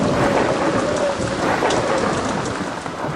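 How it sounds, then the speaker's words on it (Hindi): Steady heavy rain pours down with a low rumble of thunder rolling underneath, close and continuous throughout. "बाहर से आ रही बारिश की आवाज और पत्तों की सरसराहट"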